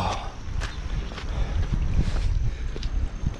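Steady wind gusting across a microphone at the Grand Canyon in Arizona, a continuous rough rushing that swells and eases, fairly loud and close, with no voices.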